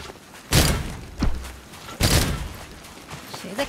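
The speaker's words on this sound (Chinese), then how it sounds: "谁在开枪啊？" Gunshots in a shooting video game: two loud sharp bursts and a smaller thud, spaced irregularly over a low background.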